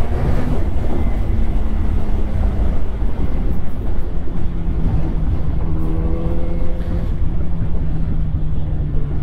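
A 2006 Yamaha FZ1 roadster, restricted to 106 hp, revs hard under acceleration, its engine drone rising and shifting pitch through gears amid loud wind rush, recorded from on board.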